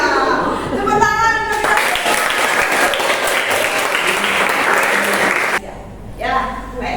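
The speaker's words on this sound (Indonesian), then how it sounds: "Ya, tepuk tangan." A classroom of students bursts into applause during an economics lesson in Indonesia, a dense burst of clapping lasting several seconds, with children's voices chattering before and after.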